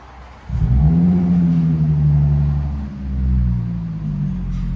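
A 2016 Audi A7 Quattro with a 3.0L supercharged V6 and Borla ProXS exhaust with muffler delete starts with a sudden deep roar, then a rev that swells and eases into a low, rumbling idle, heard close and steady.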